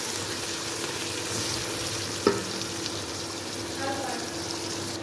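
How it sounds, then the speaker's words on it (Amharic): Chopped onions fry with spices such as cardamom, cinnamon, cloves and cumin in a pan for a prawn biryani, a steady close sizzle with a sharp clink of the stirring utensil midway and light scraping. "ሽንኩርታችን እንደዚህ ተቆላልቷል። ያዘጋጀነውን ቅመም እንጨምራለን ማለት ነው።"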